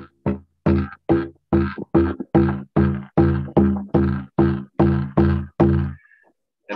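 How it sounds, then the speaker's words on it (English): Native American drumming in a two-beat heartbeat pattern, a series of loud, evenly spaced booming drum strikes at a lecture for an Indigenous Peoples' Day pow wow, ringing alone before it stops. "Native drumming would sound like this."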